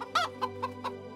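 Chickens in neighborhood coops along small village lanes in Liechtenstein cluck in four quick, close calls over a steady low hum.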